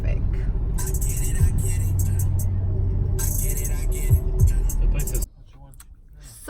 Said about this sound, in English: Cali traffic.